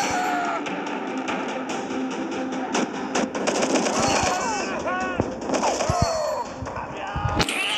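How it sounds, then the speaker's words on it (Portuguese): Rapid gunfire fills a first-person shooter war game, with steady bursts of shots and sharp cracks running the whole time, loud and close, and a faint voice underneath. "Vamos lá, só descer a bala nesses malucos."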